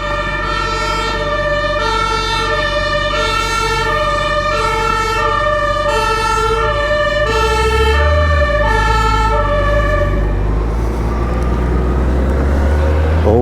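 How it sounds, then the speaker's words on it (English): Fire engine siren wailing loudly and steadily as it passes close by on a country road, its rising and falling tones over a rumbling engine, from the seat of a BMW K1600 motorcycle. "And everything stops for the fire brigade."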